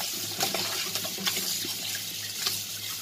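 Raw chicken is washed under a running kitchen tap, with steady splashing water and short surges as the pieces are rubbed and turned.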